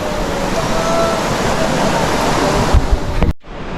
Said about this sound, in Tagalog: Ilog na ho ito.